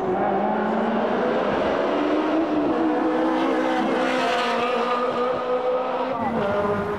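Ferrari race cars battle at Spa during the 2001 Ferrari Days, their engines roaring loudly and continuously close by, rising and falling in pitch as they accelerate through the corners.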